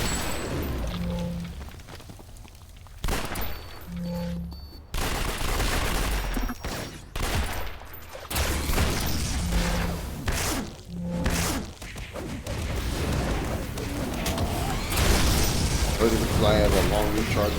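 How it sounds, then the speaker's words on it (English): Gunfire in the video game City of Heroes, with heavy knockback shots firing in repeated bursts and booms over a busy mix of game effects, someone talking over much of it. "I fire my gun so hard the bullets send people backwards."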